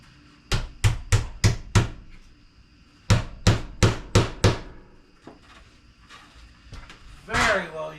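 A well-used hammer drives in fasteners during an outdoor woodstove install, with two bursts of five sharp, evenly spaced strikes separated by a short pause, close and loud, followed by a brief spoken remark.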